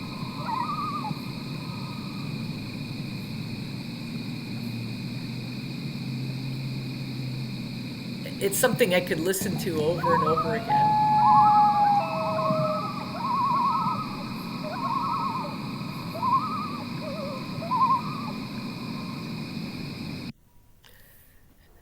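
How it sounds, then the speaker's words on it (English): Common loons call in long, wavering, haunting tones across a steady background hiss, several calls following one another at middle distance while a person speaks over part of it. "These are loons communicating. I've heard this described as haunting."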